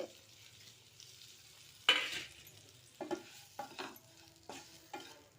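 Mustard powder and ground fenugreek being stirred into mango pickle in oil: a soft, steady scraping at first, then several louder, uneven stirring bursts close by, with no one talking.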